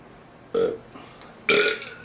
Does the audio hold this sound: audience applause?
no